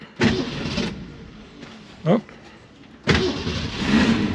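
A 1965 Ford Mustang being started: ignition click, a short cranking burst, then the engine catches and runs at a steady close rumble, with a brief spoken word in between.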